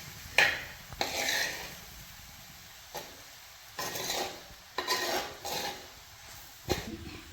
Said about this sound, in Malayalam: എല്ലാം കൂടി ഒന്ന് ഇളക്കി യോജിപ്പിച്ച് കൊടുക്കാം